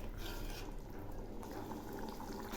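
Pumpkin curry with fennel seeds simmering in a pan, a steady soft bubbling and gentle liquid burble held close and even throughout, with no voices.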